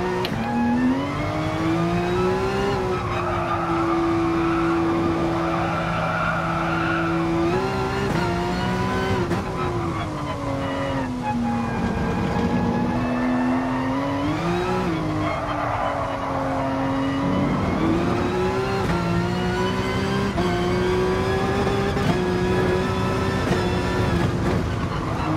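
A car in Gran Turismo Sport on PS4 accelerates through a fast gearbox, a loud continuous engine whine climbing in pitch, dropping briefly at each shift and rising again across many gear changes.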